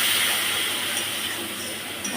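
Ground spices hit hot oil in a pan along with chili paste and browned onions, giving a loud, close, steady hiss that eases slightly as it continues, with no talking.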